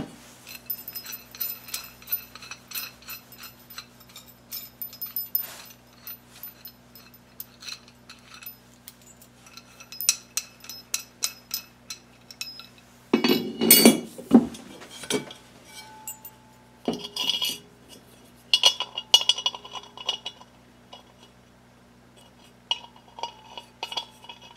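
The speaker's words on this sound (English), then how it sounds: "Bolt this into the bottom section here." Metal parts of a Harbor Freight manual tire changer being handled and bolted together, scattered metallic clinks and rattles with a louder clanking burst midway, close and intermittent.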